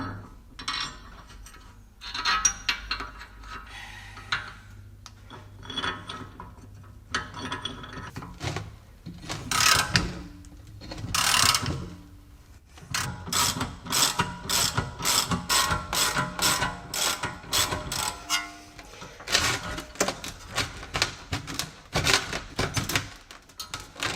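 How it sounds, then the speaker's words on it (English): Metallic clanks, ratcheting clicks and bursts of grinding as the half shaft is pressed out of a Jaguar S-Type's driver's side rear suspension during teardown, irregular and close, building into rapid repeated knocks in the second half. "let's try to press out the half shaft here as well"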